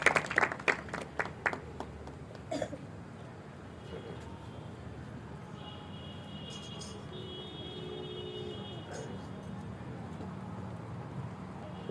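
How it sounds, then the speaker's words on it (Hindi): Church congregation clapping to welcome a brother to the pulpit, a burst of loud hand claps at the start that quickly fades into a low murmur of room noise. "जोरदार ताली बजाकर भाई का स्वागत करें।"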